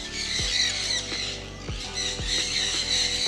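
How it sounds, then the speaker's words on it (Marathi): Birds squawking at the Nisargadhama reserve in Coorg, a busy chorus of harsh calls and chirps close by, with several sharp squawks standing out over continuous background bird noise. "हे पक्षी आहे बाबा, भरपूर पक्षी आहेत."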